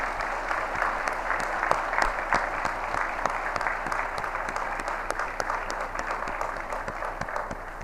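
A graduation crowd applauds the Chief Petty Officers at an Officer Candidate School ceremony, a steady, dense wash of many hands clapping at a moderate distance, sustained evenly throughout with no voices over it.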